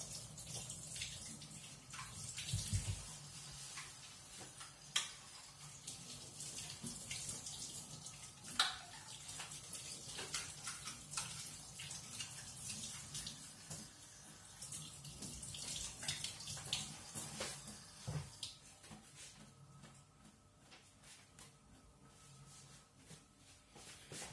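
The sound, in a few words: water running from a tap while washing a meat grinder nozzle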